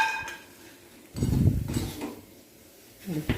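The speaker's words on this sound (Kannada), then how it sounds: "ಈ ಥರ ಜರಡಿ ಇದ್ರೆ ಅದರಲ್ಲಿ ಈ ಥರ ಉಪ್ಪನ್ನೆಲ್ಲ ಸಾಣಿಸಿ ತಗೊಳ್ಳಿ" Roasted peanuts rattle and scrape as they are shaken in a sieve to sift off the salt. It comes as a close, gritty burst about a second long, with a shorter shake a moment later.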